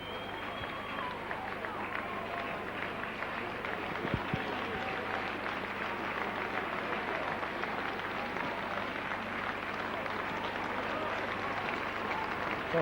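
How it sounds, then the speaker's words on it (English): Crowd at a rugby league match between St Helens and Oldham giving sustained, even applause from the stands, distant and steady, with a commentator talking over it throughout. "So sympathetic applause as Joey Hayes is cheered off"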